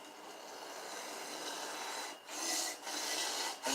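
Sharpening a cleaver by grinding material away from its edge: a continuous, close, fairly loud rasping scrape with a few brief breaks between strokes.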